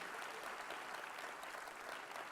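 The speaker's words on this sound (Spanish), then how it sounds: "Si usted lo cree, déle ese aplauso fuerte al Señor." Members of a Spanish-speaking church congregation give sustained applause to the Lord, a dense, even spread of clapping that sounds fairly distant and faint.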